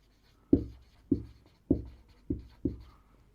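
Chalk or marker strokes on a classroom board during a geometry lesson on quadrilaterals, five sharp taps with short scraping tails spaced about half a second apart, close and fairly loud with no talk.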